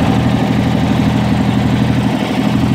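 A small MTD riding mower engine runs steadily close by, driving in first gear with a drive belt that slips, giving a continuous low, throbbing drone at even loudness throughout, with no voices over it.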